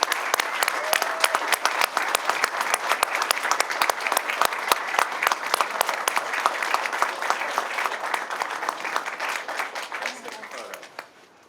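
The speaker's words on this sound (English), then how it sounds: "can we have all the youth please stand and receive a well-due round of applause?" A roomful of people at a city council meeting claps steadily and loudly for the youth standing up, a dense sustained round of applause that tapers off near the end.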